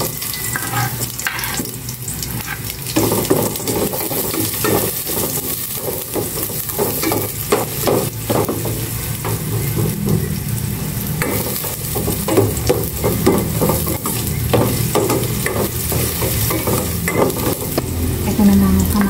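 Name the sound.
onions frying and being stirred in a pan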